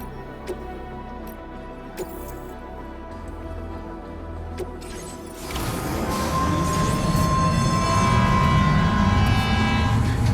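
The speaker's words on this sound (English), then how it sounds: "I've never seen a working monorail before." A monorail in the video game Death Stranding 2 starts up after a quiet stretch, swelling midway into a loud, sustained rolling rumble with a steady whining tone riding on top.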